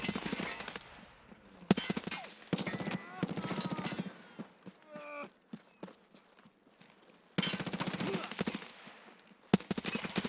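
Rapid video game gunfire comes in loud bursts and single shots, broken by quieter gaps and short tonal game effects.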